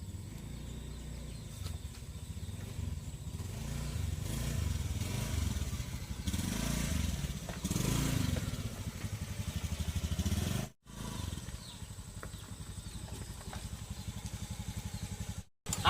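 A motorcycle engine runs steadily nearby for most of the stretch, a low rough drone with uneven revving, broken by a brief cutout near the end before it picks up again.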